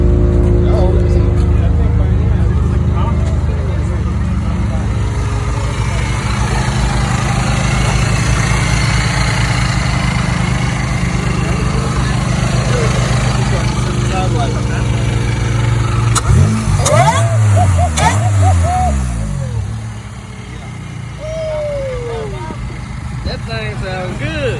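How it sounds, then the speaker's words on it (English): Supercharged Toyota Camry engine at a car meet, idling loudly with a steady drone and a brief rev near the end, joined by faint supercharger whine, while people talk in the background throughout. "Y'all hear that Supercharged Camry, man?"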